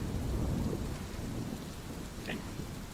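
Rain and fog ambience in a video game: a steady, fairly loud wash of falling rain with low rumbling underneath, continuous throughout, with a faint brief tone near the end and no clear speech.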